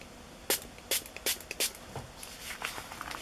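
Several short bursts of spray paint hiss out in quick succession, each a sharp airy puff, followed by softer, fainter spritzes nearby.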